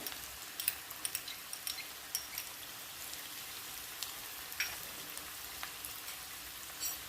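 Garlic frying in a pan for a spicy Vidarbha-style eggplant bharta, a faint, even hiss of crackling oil with scattered light pops and ticks, quiet and steady without any talking.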